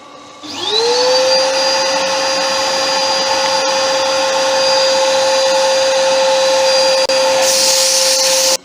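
A power sander or lathe-driven sanding tool works on a wood-turned snowman, spinning up to a loud steady high whine that holds evenly for several seconds before cutting off abruptly, close and alone without talk.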